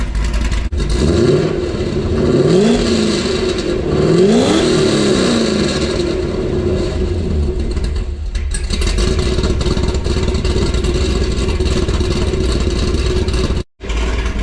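A throaty Corvette C6 V8 with Corsa mufflers revs up and down a couple of times, then settles into a loud, steady idle rumble with no talking.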